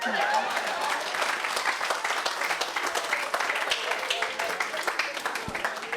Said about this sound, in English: You're supposed to applaud for that.